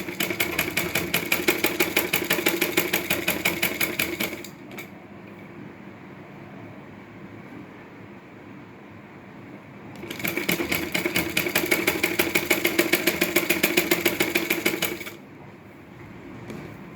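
A sewing machine stitching a strip onto a blouse runs in two fast, steady bursts of rapid needle clatter, separated by a quiet pause, loud and close with no talking.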